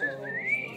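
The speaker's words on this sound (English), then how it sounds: "Maybe whistle while I work." A person whistles a short rising tune, one clear sustained note sliding upward, close and alone with no talk.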